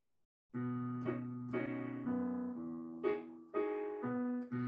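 A bright piano passage from a song in Carousel played in a major key, a short sequence of ringing chords and notes played alone, clear and close.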